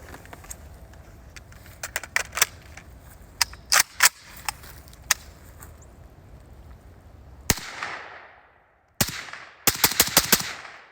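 A suppressed Russian AK rifle fires supersonic and subsonic rounds at a range: sharp, muffled cracks in single shots and quick rapid clusters, with decaying tails and short pauses between bursts.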